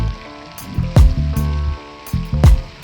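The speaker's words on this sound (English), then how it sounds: "Then I flip my steak for 3 more minutes on the other side." A steak sears in a hot oiled pan, a continuous hiss and crackle of fat with louder spitting bursts, heard close alongside a tonal musical background.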